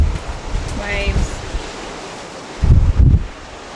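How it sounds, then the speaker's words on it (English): Ocean surf washes steadily against a shoreline by an old whale-oil storage site, a broad, rushing roar with a couple of louder surges, along with wind buffeting and a brief voice. "Waves."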